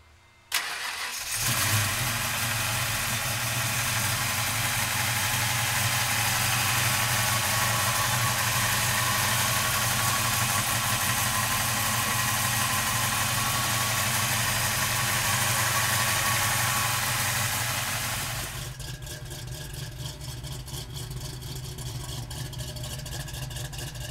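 A 1990 Ford Mustang cranks briefly and fires, then settles into a loud, steady idle with a deep rumble close by, before the engine note drops and levels off lower near the end.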